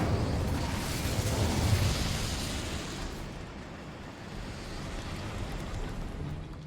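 The Incendio fire spell from Hogwarts Legacy bursts into a broad roaring whoosh of flame that swells, then settles into a steady, fainter rushing burn.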